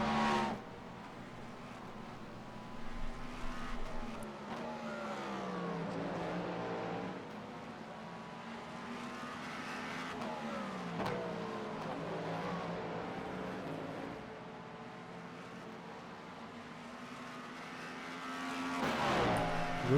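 Race cars in the European Sprint Car Challenge racing game, among them a GT3 car and a blue Cadillac, roar steadily with rising and falling engine whine as they work through corners, closing with a louder burst near the end.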